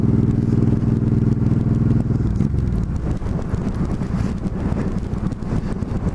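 A motorcycle engine drones steadily at close range while heavy wind buffets the microphone in loud rushing gusts, with a smooth tonal hum at first giving way to rougher, flapping wind noise.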